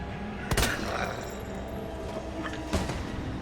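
Gunfire in the survival horror game Resident Evil 2, two sharp shots a couple of seconds apart over a dense, rumbling game soundscape.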